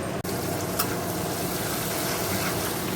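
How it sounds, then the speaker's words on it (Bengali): Fish frying in a pan in a home kitchen, a steady dense sizzle of hot oil that holds at an even, close, loud level throughout, broken only by one brief sharp click near the start, with no voices. "তো চলো মাছগুলো ভাজা হোক"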